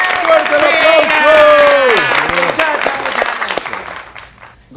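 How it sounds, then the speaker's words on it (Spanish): A television studio audience applauds and cheers on a Spanish-language talk show while loud voices call out over the clapping, which fades near the end. "¡Fuerte el aplauso!"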